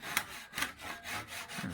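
A Japanese pull saw cuts through wood in steady back-and-forth strokes, about four rasping passes with short pauses between them, close and fairly quiet with no talking.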